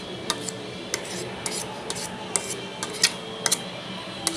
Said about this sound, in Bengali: ম্যাশ করা হয়ে গেলে এটা আমি ওটসের সাথে মিশিয়ে দিব।